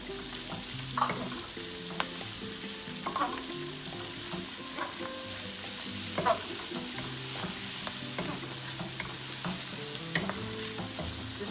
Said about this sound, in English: Just continue sauteing it for a little bit, just to combine all the ingredients.